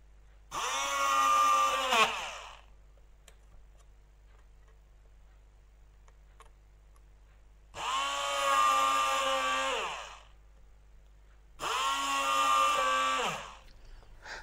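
Three bursts of high-pitched whining drilling from a 0.8 mm bit boring holes in a circuit board, each lasting about two seconds, separated by quiet pauses.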